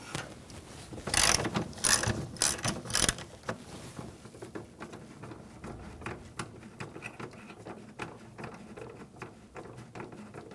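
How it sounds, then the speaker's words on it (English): Ratchet wrench with an E18 socket backing a bolt out of a 2009-2013 BMW 328i xDrive 3.0L inline-six, a loud burst of rapid clicking at first, then softer, steady ratcheting clicks close up. "Using a E18 socket, take this bolt out."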